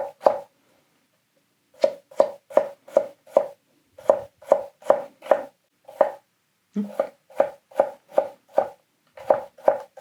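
A Hatsukokoro Kurokaze kitchen knife push cuts sweet potatoes on a cutting board, giving crisp rapid knocks in quick runs of five to eight strokes separated by short pauses, close and clear with no talking.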